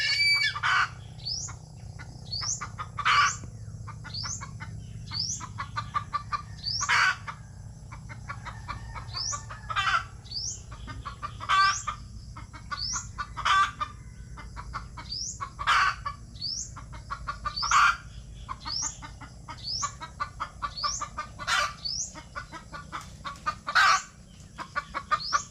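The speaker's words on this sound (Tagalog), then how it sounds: "Bagus mga kasinag yung inahin kong manok." Hungry chickens cluck and squawk in quick repeated bursts, one hen chasing another, with a rooster's crow mixed in over a steady low background hum.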